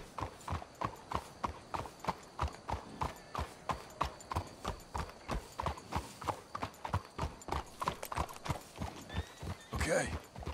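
Horse hooves clip-clop steadily and close in Red Dead Redemption 2, with a neigh near the end, under quiet in-game dialogue.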